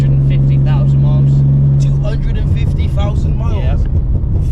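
A high-mileage BMW E38 728i with its original engine and modifications drones steadily while driving. The hum stays loud and continuous under a conversation between people inside the car.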